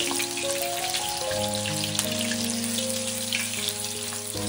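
A piece of paneer deep-frying in hot oil gives a dense, steady sizzle with fine bubbling crackle, close and continuous throughout, with a constant tonal hum from the stove area underneath and no voices.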